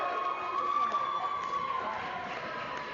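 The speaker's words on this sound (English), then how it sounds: "It's a big cheer from the Australians." Crowd cheering from Australian supporters at a gold medal presentation in a hockey rink in East Aurora, a steady roar with a sustained high whistle-like tone through it, moderately loud and continuous.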